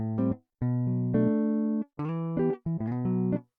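Dry guitar in FL Studio with no plugin effects plays short separate bursts of notes and chord fragments split by brief silences, sounding clean, close and fairly quiet.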